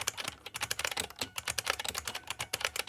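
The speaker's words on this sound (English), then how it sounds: "So, such a nice keyboard." Keys clack rapidly on a vintage IBM PC XT keyboard, a dense run of crisp, close keystrokes with an uneven typing rhythm and no talking.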